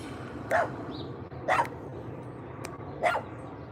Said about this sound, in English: there's a lot of barking in the neighborhood right now. All the dogs are out in force.